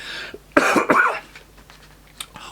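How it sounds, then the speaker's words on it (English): A single sharp cough bursts out, followed by a throat-clearing rasp, then quiet room noise with a faint click near the end. "heater, sorry, it's making me cough."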